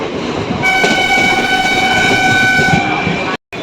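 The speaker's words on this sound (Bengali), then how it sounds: "আমাদের ট্রেন এখন শেওড়াফুল স্টেশনে ঢুকছে" A local train rolls into Sheoraphuli station with a loud, sustained horn blast over the rumble and rattle of the carriages, heard close from on board.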